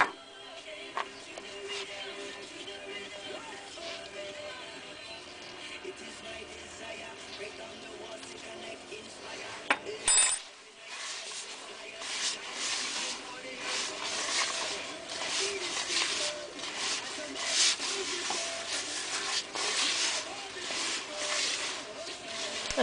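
Dry, dusty bath bomb powder mixed with fragrance oil is stirred and rubbed in a bowl, making a soft, continuous scraping hiss that grows busier and louder partway through.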